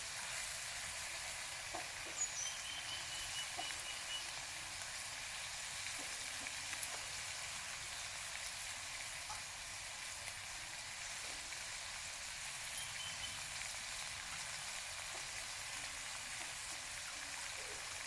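Curry leaves frying in oil for a simple quail fry, a faint, steady hiss of sizzling that carries on evenly, with occasional light stirring taps and no voices.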